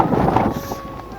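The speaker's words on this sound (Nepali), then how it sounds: "यस्तो चमसमको यस्तो हावा चलिरहेको छ" Strong wind at Jomsom in Mustang roars and buffets a microphone up close in one continuous rushing blast. A voice is heard faintly under the gusts.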